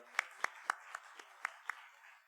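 A church congregation claps in unison at a Sunday afternoon service in a small sanctuary, about seven slow, evenly spaced claps, fairly faint and distinct.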